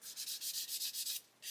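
An 800 grit sanding sponge rubs back and forth over the body of a 1/8 scale Lamborghini Aventador model car in steady rhythmic strokes, close and soft, with a brief pause near the end.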